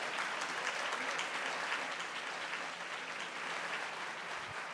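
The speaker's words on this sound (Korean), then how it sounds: "인사 박수 부탁드립니다" Applause from the audience at a wedding ceremony: a dense, even wash of many hands clapping at once, sustained steadily for several seconds at a moderate distance.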